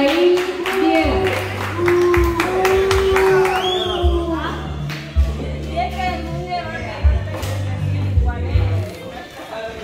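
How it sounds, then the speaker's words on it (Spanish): An audience applauds a contestant on a Spanish-language television show, steady clapping and cheering from a crowd, with music and people talking running loudly over it throughout. "Un aplauso para la señorita Abigail Piera."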